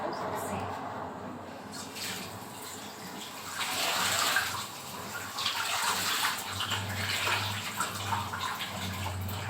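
Running tap water pours steadily over dishes being washed, a close, continuous splashing stream that swells midway and continues without speech.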